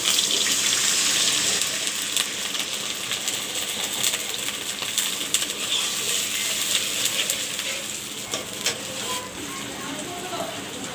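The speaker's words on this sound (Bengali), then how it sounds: "তো আমি এখানে পানি দিয়ে দিচ্ছি।" Water poured into a pan of hilsa fish curry cooking with onion, green chili and mustard oil, giving a dense rushing splash over the hot pan's hiss, with scattered utensil clinks, close and steady throughout.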